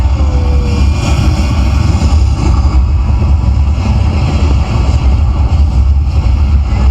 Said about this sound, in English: We have main engine start. 5, 4, 3, 2, 1. Liftoff.